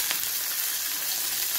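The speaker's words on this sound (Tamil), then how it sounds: "வதக்கட்டும், தாளிச்சிடும்." Ginger, cashews, cumin, pepper and curry leaves frying in ghee give a steady, close, even sizzle with no talking.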